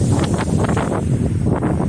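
Strong gusty wind on a mountain top roars steadily across the microphone, a heavy blustering rush with no voices.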